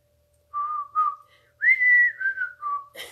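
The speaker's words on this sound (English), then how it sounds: "Do you hear the whistling?" Whistling of the Andy Griffith Show theme plays from a television, a clear melodic tune of several sustained notes heard alone in a quiet room, ending in a short burst of noise.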